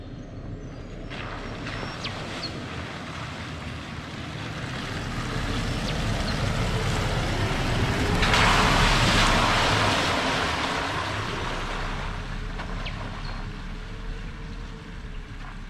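A Toyota FJ Cruiser drives down an offroad track near a big river, a broad, rushing noise of engine and rolling tires that swells to a peak midway and then eases off, with no talk.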